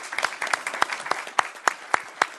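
Council meeting audience applauding, a small group clapping with distinct, sharp, fairly regular claps over a couple of seconds.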